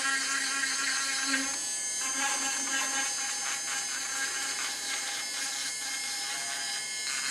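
A dental bur grinds a broken resin complete lower denture during repair, giving a steady, quiet, high-pitched whine with gritty grinding texture that runs continuously throughout.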